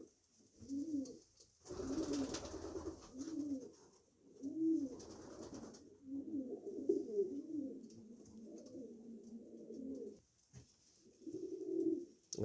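Domestic racing pigeons in a loft give soft, repeated throaty coos in rolling phrases, close and moderately quiet, with brief pauses between bouts and a faint high background hiss.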